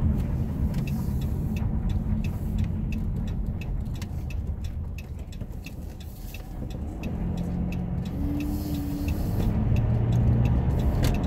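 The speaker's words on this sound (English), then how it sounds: "I'm just driving by City Hall here." A car drives past a small-town City Hall, its steady engine and road rumble holding close and even throughout, with a brief higher tone near the end.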